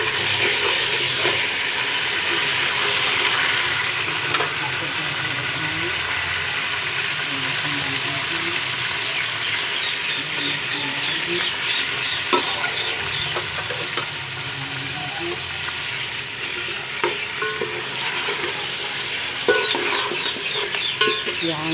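Onions frying for mutton yakhni pulao make a steady, dense sizzle that runs unbroken for over twenty seconds, with occasional light scrapes and clinks from the pan.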